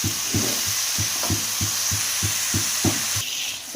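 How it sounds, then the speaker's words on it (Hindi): Chicken pieces with spinach and bread fry steadily in a pan, a continuous close sizzle broken by regular soft knocks of stirring about every third of a second. "इस तरह से हमने इसे 3 से 4 मिनट तक दोनों चीज़ों को अच्छे से फ्राई कर लेना है"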